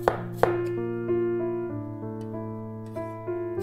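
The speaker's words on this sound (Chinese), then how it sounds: "额外再切 姜丝和葱丝。" A kitchen knife slices ginger and scallions on a cutting board, making a few sharp, isolated chops over steady background music.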